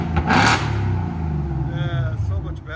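A 2024 Ford Mustang GT with a 5.0L V8 and Valvetronic Designs mufflers revs sharply once, then settles into a deep burbling idle heard from outside, with people talking over it.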